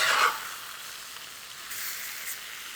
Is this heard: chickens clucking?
no